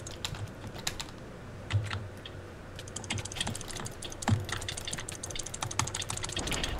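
Rapid clicking of a computer keyboard during a Minecraft Hunger Games match, sounding close and fairly loud with irregular bursts of keystrokes throughout and no talk.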